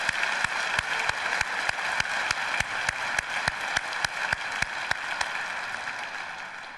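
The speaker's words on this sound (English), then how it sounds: "let's give one more round of applause to our sponsors" Theater audience applause at a Capitol Steps comedy show, heard fairly faintly as a steady wash of clapping with a regular, rhythmic beat running through it.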